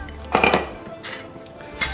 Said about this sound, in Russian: Прошлись по ней лопаткой.